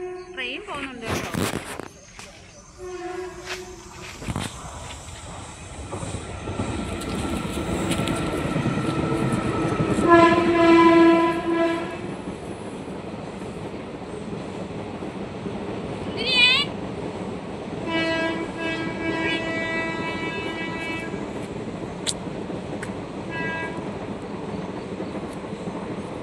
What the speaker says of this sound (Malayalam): ട്രെയിൻ പോകുന്നുണ്ട് കേട്ടോ.